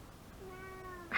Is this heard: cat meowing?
yes